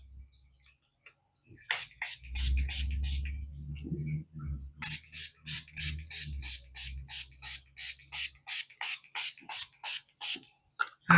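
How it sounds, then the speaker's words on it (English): A rapid series of short, sharp bursts from a makeup setting spray bottle, evenly spaced and close, following a stretch of low rubbing and handling noise. "for setting spray, I'm going to use the Revolution Fix and Glow setting spray, fixing spray"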